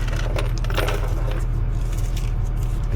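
A ring of spare keys jangles and clinks in a hand with bright metallic rattles, close and fairly loud, over a steady low engine-like rumble.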